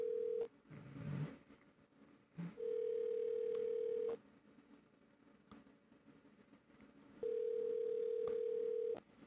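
A telephone tone heard while calling back: steady, moderately loud beeps in three long segments with quieter gaps and faint clicks between them.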